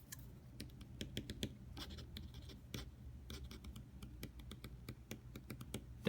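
Zebra Sarasa Grand gel pen with a 1.0 mm cartridge writing on paper, giving soft, close scratchy strokes and light taps in an irregular rhythm over a low background hum.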